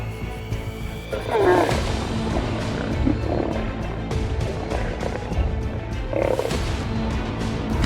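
Lions of a pride in the Okavango Delta give deep rumbling roars, two louder bursts standing out over a dense, noisy wild background, with no speech heard.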